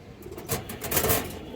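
A female high-flyer pigeon coos softly close by, a brief low burbling call over faint rustling in a pigeon loft.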